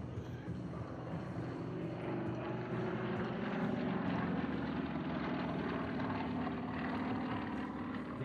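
A Sukhoi SU-26 aerobatic plane flying an air show demo at Travis Air Force Base, its propeller engine a steady loud roar that swells slightly as it passes.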